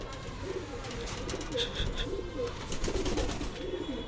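Domestic pigeons freed from a rooftop loft coo and flutter close by, with steady outdoor noise and a few faint chirps.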